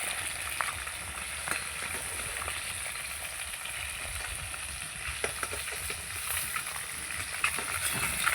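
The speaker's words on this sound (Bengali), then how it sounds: "মাছের কাঁটাগুলো ভালো করে ভেজে নিয়েছি" Steady faint sizzle of catla fish bones frying in oil, with soft crackles and pops scattered throughout, no voices.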